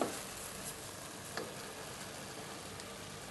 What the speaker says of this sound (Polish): Fajnie nam się podpieka mięsko już do tego.